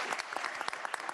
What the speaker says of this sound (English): You all give Todd a round of applause, please.